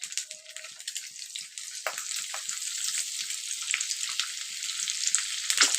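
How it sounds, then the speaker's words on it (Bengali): Chopped garlic frying in hot fish oil gives a loud, steady sizzle close up that holds and swells slightly throughout, with no talking. "এবার দিয়ে দেব রসুন কুচি প্রথমে"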